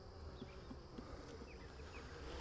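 Honey bees buzz softly inside a nuc box during a transfer to a 10-frame hive, a faint, steady hum with small flickers of individual bees, no voices.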